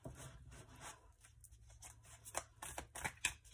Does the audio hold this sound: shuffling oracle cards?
yes